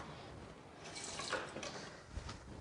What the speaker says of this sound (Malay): Ni kena masuk air sikit pasal entahlah.